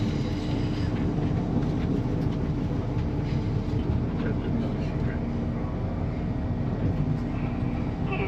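An LNER passenger train runs on the rails on the Edinburgh service, heard from on board as a loud, constant low rumble with faint clicking over the track joints, lasting throughout.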